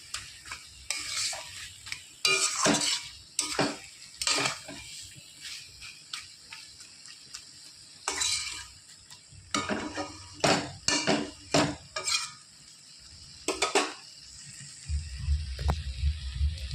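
A fish-oil chorchori with roe is stirred in a pan, a spatula clinking and scraping in irregular bursts against the metal, close and fairly quiet with short pauses between strokes.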